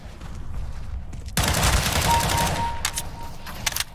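Gunfire in GTA 5 erupts after a quiet stretch, a burst of rapid automatic shots with a few sharper cracks trailing off near the end, fairly close and loud.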